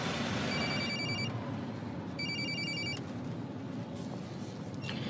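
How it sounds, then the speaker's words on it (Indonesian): A mobile phone rings with a bright electronic ringtone in two repeated tonal bursts over steady background noise at an indoor setting, with no talking. "HP-nya bunyi"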